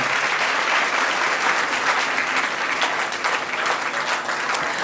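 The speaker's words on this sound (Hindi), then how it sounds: "उससे ज्यादा जोर से आप लोगों की तालियों की गड़गड़ाहट होनी चाहिए इस ऑडिटोरियम में" Dense, steady applause from an auditorium audience at a film festival session, loud and continuous for the whole stretch with no pauses.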